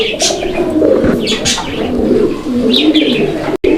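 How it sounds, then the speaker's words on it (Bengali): Pairs of pigeons offered for sale cooing close by in a continuous, overlapping murmur, with occasional chirps and a brief dropout near the end. "এই যে দেখেন কবুতরগুলো আমি একটু সামনে এনে দেখানোর চেষ্টা করতেছি"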